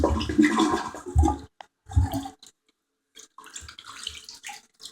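A Kohler Pompton toilet flushes in surging bursts of rushing water, loud and close, broken by short pauses before the water refills.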